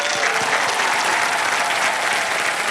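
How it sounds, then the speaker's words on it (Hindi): A studio audience on a televised game show applauds loudly and densely, a sustained burst of clapping that fills the whole moment with no speech over it. "जोरदार तालियां इनके लिए।"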